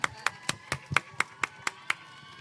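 Hand claps at a Thai film premiere event: roughly ten sharp, evenly spaced claps in a steady rhythm, close and fairly quiet, with no voices over them.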